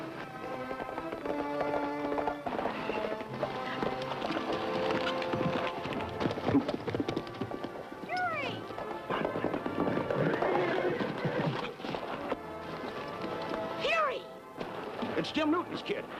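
Horse hooves pound at a gallop amid a busy, noisy scene, with whinnies, shouting voices and dramatic music layered over the running.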